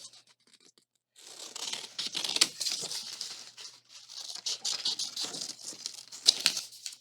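Scissors snip and crinkle through paper while cutting out side panels for a Shrek craft: steady close scratchy cutting and rustling after a second of near silence, with a few sharper crackles.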